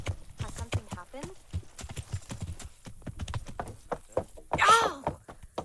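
Horse hooves clip-clop in the medieval video game Kingdom Come: Deliverance, a steady run of dull thuds under people talking, with a short burst of rustling noise near the end.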